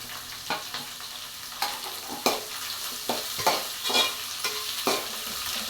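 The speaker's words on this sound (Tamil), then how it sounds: "வெங்காயத்தை நல்லா வதங்க விடணும்." Large chopped onions fry with chilies in a pan for a potato masala, a constant sizzle broken by sharp, irregular scrapes of a spoon stirring them up close.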